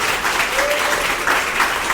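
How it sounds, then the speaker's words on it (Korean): An audience applauds at the end of a lecture on Obsidian and second-brain note-taking, a steady, fairly loud wash of clapping from many hands with no clear gaps. "우리 여행가제이님께 한번 박수 한번 부탁드릴게요"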